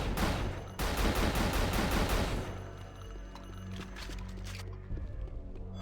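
A grenade weapon in the shooter game Unreal Gold with the Evolution mod fires a rapid string of loud, sharp bursts, followed by a long rumbling blast that fades into ringing and scattered crackles.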